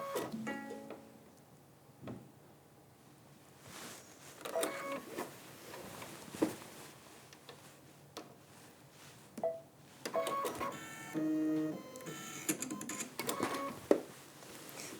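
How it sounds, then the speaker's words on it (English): A home sewing machine works through its automatic needle-threading cycle while quilting, giving a string of short mechanical whirs, clicks and beeps that come in scattered bursts, fairly close and moderately loud with no talk. "My machine likes the quilt sandwich to be away from the presser foot when it's threading"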